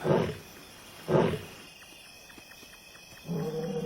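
A male African lion roars at night in deep, powerful bursts, two loud calls then a rumbling series of grunts, with another roar starting at the end; distant and open-air.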